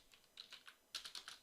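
Soft clicks of a computer keyboard tapped in quick short clusters, faint and close, with no talking over the key presses.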